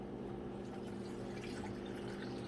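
Water pours steadily into a jar while ginger tea extract is being made, a continuous close splashing fill over a low background hum with no one talking.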